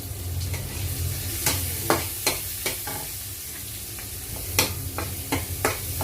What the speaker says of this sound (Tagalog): Kailangan, igisa lang natin ng mabuti.